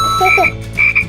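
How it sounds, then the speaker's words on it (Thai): A toy hammer plays an electronic frog croak, rasping out two quick ribbed croaks, a short pause, then two more, close and fairly loud over a low steady hum. "เสียงกบแปด"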